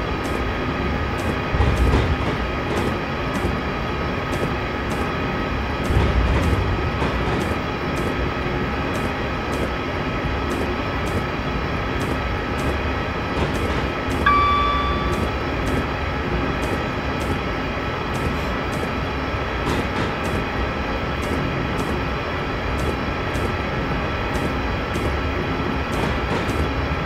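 A London Midland train speeds along the wintry Trent Valley route in Train Simulator 2018, giving a steady, loud rumble and rushing drone with faint clicks, alone and unbroken throughout.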